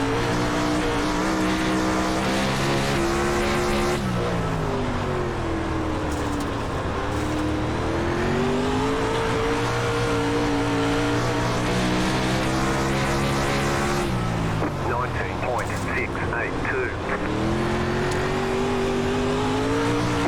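360 sprint car engines roar around the dirt oval at Williams Grove Speedway in the iRacing simulation, a loud, continuous buzzing drone whose pitch sweeps up and down as cars accelerate and lift through the turns.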